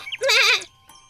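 A goat's wavering, vibrato bleat rings out clearly for about half a second, set in a Hindi moral tale about a clever goat escaping a well, with quieter short sounds before it.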